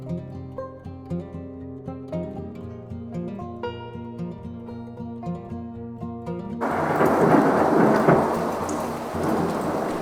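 Music plays at first, then a heavy downpour of rain cuts in suddenly, loud and hissing with a low thundery rumble beneath it.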